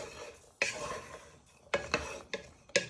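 Vegetables for carrot and coriander soup are stirred in a frying pan, with a few short scraping clatters of utensil against pan, close and fairly quiet, separated by brief gaps.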